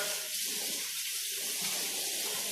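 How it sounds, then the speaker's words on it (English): Hot tap water gushes steadily into a sink, a continuous close hiss with faint splashing as a cloth is rinsed under it. "rinse the cloth in nice hot water"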